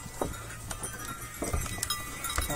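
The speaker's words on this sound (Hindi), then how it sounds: "ये बकरियां जा रही हैं" Goats walking out through an opened pen gate toward the forest on a sunny day, with scattered soft hoof steps and rustling over steady outdoor background noise and faint low thumps.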